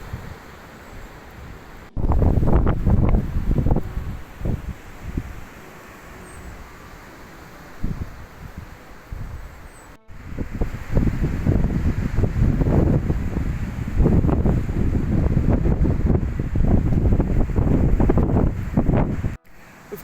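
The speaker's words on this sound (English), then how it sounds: "the wind is blowing my hand everywhere" Strong storm wind in Cornwall buffets the microphone in heavy, continuous roaring gusts, close and loud, with brief pauses and surging rushes, no talk.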